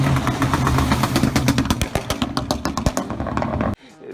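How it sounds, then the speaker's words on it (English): Car exhaust on a crackle tune burbling and popping, a loud rumbling engine note broken by rapid sharp crackles and bangs that cluster densely toward the end before cutting off abruptly. "It gets hot, it starts burbling and popping and banging"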